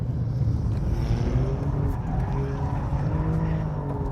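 A sports car slides through a drift, its engine droning loud and steady while tires scrub and squeal in rough bursts over roughly four seconds, with no talk.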